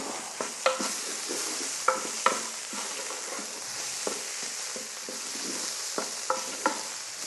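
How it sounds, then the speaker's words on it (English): Thyme and garlic being stirred into a sizzling beef pie filling in a pan, with scraping spoon strokes and knocks against the pan at irregular intervals over a continuous frying hiss. "Just give that a little mix in."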